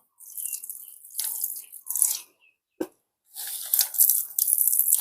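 Water is poured in splashy bursts onto a plant cutting set in sand. The close gushes stop for a moment, a short thud follows, then the pouring starts again.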